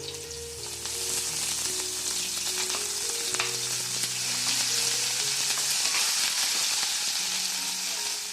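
Onion frying in oil with garlic, ginger and curry leaves, a loud, continuous hissing sizzle with light stirring noises and a faint tone in the background, heard alone without speech.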